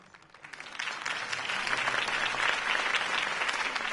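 A large crowd applauds after a mayoral campaign speech, starting thin and quickly swelling into a full, sustained roar of clapping that stays loud to the end.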